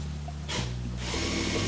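A power drill with a larger bit bores holes in a wooden board, clamped to an old board used as a guide. A short burst of whirring is followed by a steady, close drilling whine that runs to the end.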